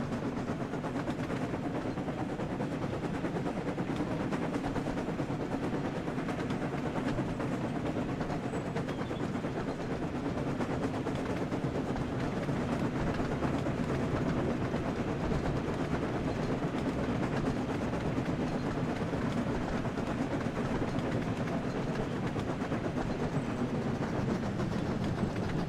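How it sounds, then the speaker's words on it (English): An express steam engine from the Thomas & Friends video game Wonders of Sodor: Across the Rails runs with a continuous rolling rumble and steady clatter, loud and unbroken throughout. "Gordon got some speed. He's an express train."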